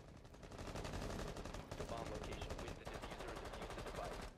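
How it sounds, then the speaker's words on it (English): Rapid gunfire from AI enemies in Rainbow Six Siege, shooting outside near the spawn: dense, continuous bursts of automatic fire that keep up loudly for the whole stretch with only brief dips. "I hear gunfire out here."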